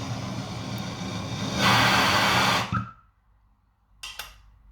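A Rothenberger Superfire 2 gas torch roars steadily and loudly for under three seconds, swells briefly, then cuts off abruptly into near silence, followed by a couple of faint clicks.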